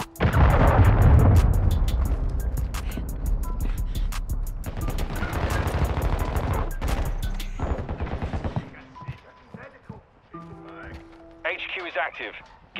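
Rapid automatic gunfire rattles loudly in Modern Warfare 2, dense bursts of shots over a rumble, then thinning into scattered shots and radio-style voices talking toward the end.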